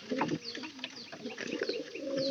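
Pigeons in a loft with newly hatched squabs coo over and over, low rolling calls repeating close by with a few faint higher chirps mixed in.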